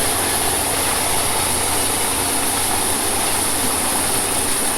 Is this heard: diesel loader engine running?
yes